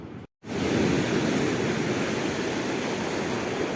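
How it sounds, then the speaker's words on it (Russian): Sea waves wash steadily onto the shore in Abkhazia in winter, a constant broad rushing surf after a brief cut of silence at the start. "Я просто хочу смотреть на волны."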